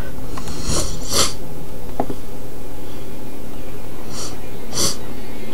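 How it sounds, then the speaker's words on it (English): A person sniffs several times up close, short airy nasal intakes in pairs spaced a few seconds apart over a constant background hiss. "pardon my sniffing."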